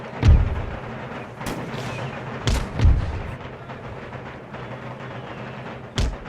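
In Empire Total War, artillery booms in several separate deep blasts spaced a second or more apart. Each bang is loud and reverberant over a low battlefield rumble.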